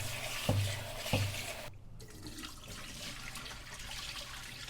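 Water running from a kitchen tap while food is given a quick rinse, a steady splashing stream preceded by two sharp knocks, briefly cutting off and then continuing as a softer trickle nearby.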